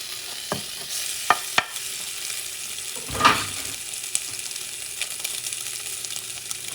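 Salted pork sizzles and fries steadily in a pan, a continuous crackle broken by a few sharp pops and a brief louder burst of spatter midway, close by with no talking.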